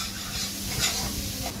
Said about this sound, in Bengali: আমার পেঁয়াজও ভাজা হয়ে গেছে